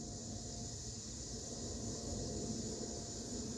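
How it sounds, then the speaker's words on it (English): Cicadas buzzing somewhere below, a continuous high-pitched drone that stays steady and fairly faint throughout, heard without any talking. "So there's cicadas down there."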